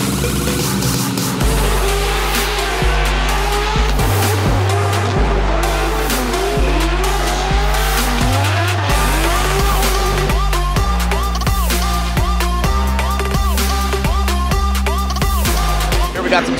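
Two BMW drift cars race at Evergreen Speedway in Monroe, Washington. Engines roar loudly and continuously with shifting pitch and tire squeal, and a commentator's voice runs over them.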